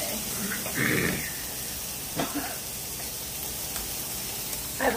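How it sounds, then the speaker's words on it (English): Peppers sizzling and steaming in a stir-fry pan, a soft steady hiss with a few brief louder spatters and faint stirring clinks, close by. "you can really smell the peppers cooking"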